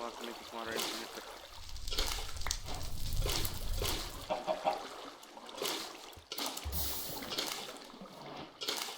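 Flowing water in the Minecraft video game, a steady trickling pour with splashy bursts running along under continuous game sounds and a player talking.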